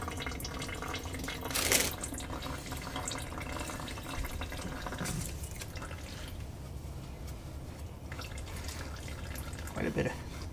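Engine oil draining from a Suzuki DRZ400 motorcycle during an oil change, a steady faint trickle and drip under a constant low background hum.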